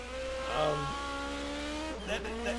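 A turbocharged race car of the 1980 DRM Division 2 at the ADAC-Hessen-Cup, its engine droning steadily with shifting pitch, followed by a brief tire squeal as it twitches through a corner. No one speaks.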